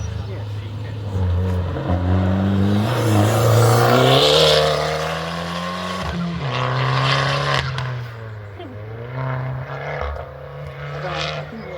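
A Fiat Cinquecento Trofeo race car engine roars and revs close by at Curborough sprint course, its pitch rising and dropping through gear changes, with a voice talking over it.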